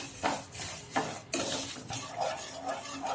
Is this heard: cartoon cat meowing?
no